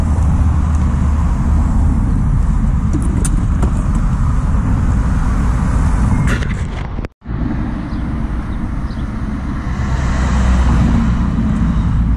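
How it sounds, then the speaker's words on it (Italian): Dense, heavy road traffic rumbles on with a steady broadband roar of passing cars, dropping for a brief instant of near silence before the loud flow resumes and carries on. "Periodo tanto traffico."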